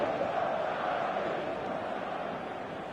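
A passionate football crowd fills a stadium on a clear evening before a showcase game, a dense, steady roar that holds loud and constant throughout without letting up.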